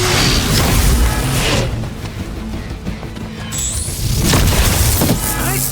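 A heavy boom and crash from a shot and explosion in the game Marvel's Midnight Suns, loud and dense, with a whooshing sweep and rumble swelling again near the end.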